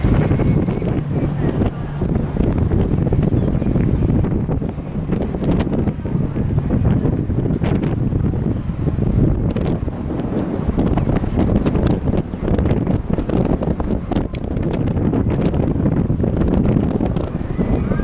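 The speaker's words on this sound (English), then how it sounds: "it is very, very windy up here." Strong wind roars and buffets the microphone continuously at a Busch Gardens Tampa roller coaster site, a dense rumbling gust that never lets up.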